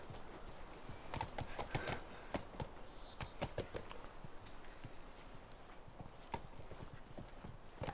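Horse hooves clip-clopping in The Last of Us Remastered, a steady rhythmic clatter of footfalls from a ridden horse, close and even across the whole stretch.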